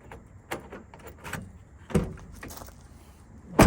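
Door lock on a Honda Acty kei truck being worked, giving several sharp mechanical clicks and clunks spread over a few seconds, with a louder thump near the end, close and alone.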